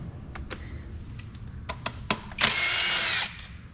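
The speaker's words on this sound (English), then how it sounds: "start removing some of these 8mm bolts" A power tool spins out 8mm bolts on a 2000 Jaguar S-Type during spark plug replacement, a short buzzing whir lasting under a second, close and loud, preceded by several sharp clicks and taps of handling.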